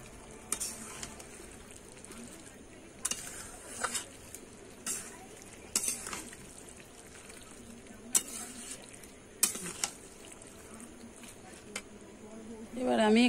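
Jackfruit and prawn curry stirred in a pan, repeated sharp spatula scrapes and clinks against the metal over a low steady simmering sizzle, close and fairly quiet, with a louder thump near the end.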